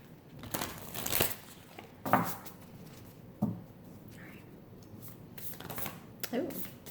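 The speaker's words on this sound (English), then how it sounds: "I am just gonna shuffle real quick." Tarot cards are shuffled in several quick riffling bursts, papery crinkles and taps rising and falling, close and moderately soft, with brief speech mixed in.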